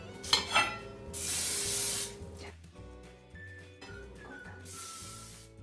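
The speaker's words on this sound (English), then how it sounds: "spray the bottom of your baking pan using cooking spray" Cooking spray misted onto the bottom of a baking pan: two steady hissing bursts, the first longer, close and fairly quiet over soft background music.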